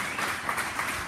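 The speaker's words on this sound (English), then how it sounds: "give this man a hand clap" A church congregation claps hands during a service, a soft, diffuse patter of many hands heard from a distance, brief and fairly faint.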